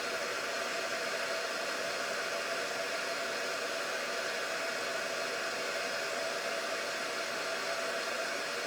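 A hair dryer blows steadily on a craft project, a constant, close, even rush of air that holds without a break from start to finish.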